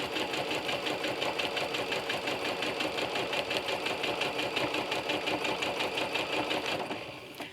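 A sewing machine with a walking foot quilts through layers of fabric, crossing existing lines of stitching. It runs as a steady, loud, rapid mechanical chatter for about seven seconds, then stops.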